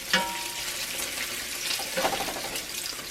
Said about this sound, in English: Flipping my bacon.